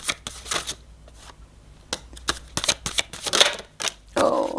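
Oracle cards shuffled by hand for a three-card draw, heard as a run of close, crisp riffling bursts with short pauses between them and a longer rustle at the end.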